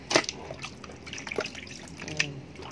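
Water runs and splashes in a kitchen sink as raw chicken is rinsed by hand, with irregular drips and spatters close by and faint background sounds.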